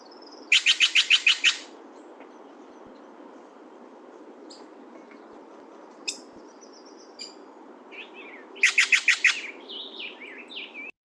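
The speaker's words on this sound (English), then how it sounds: "And this is, as Brody pointed out, a Steller's jay." A Steller's jay gives two bursts of rapid, harsh, repeated calls, one at the start and one near the end, with a few thin, isolated notes in the quiet stretch between.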